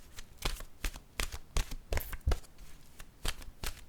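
A deck of oracle cards being shuffled by hand, with repeated close, crisp riffles and flicks of card stock in bursts, followed by a card being drawn, with no talking.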